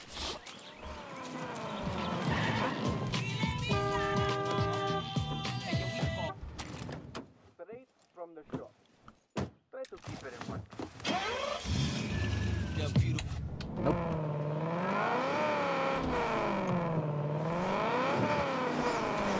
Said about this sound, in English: Oh yeah, I just grabbed my car.